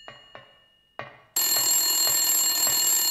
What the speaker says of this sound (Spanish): El teléfono, el teléfono.